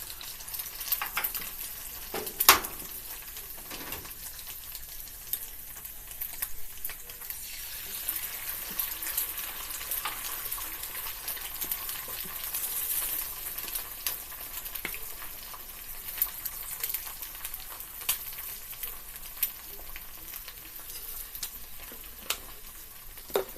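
Mushrooms and eggs fry in a pan with a steady, soft sizzle and crackle that runs unbroken throughout, with one sharp clatter near the start and no talking.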